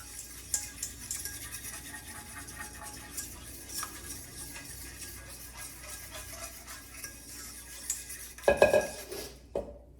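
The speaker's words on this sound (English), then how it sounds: "I'm just going to get those stirred together" Spoon scraping and clinking in a bowl while egg, sour cream and olive oil are stirred together, a continuous soft swishing with a few louder knocks near the end, no talking.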